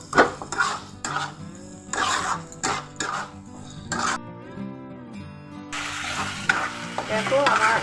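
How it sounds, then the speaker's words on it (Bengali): Masala spices and tomato for chicken kosha are stir-fried in a pan, giving bursts of sizzle and repeated scraping of utensil against metal, close by, with music playing through and a brief quieter stretch midway. "দিয়ে ভালো করে এই মশলাটা কষবো।"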